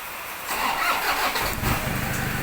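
A Toyota Tiger pickup fitted with a remote start box cranks over and catches, settling into a steady, fairly loud idle with a busy mid-range engine hum.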